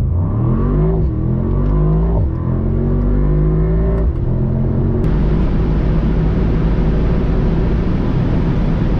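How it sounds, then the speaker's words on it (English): A 2022 Mercedes-AMG SL63 pulls hard on the autobahn, its engine note climbing loudly through several gear changes before settling into a steady, roaring high-speed drone with heavy road and wind noise. "today featuring the all new 2022 model Mercedes AMG SL63"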